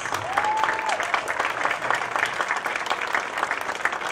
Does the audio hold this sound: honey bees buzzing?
no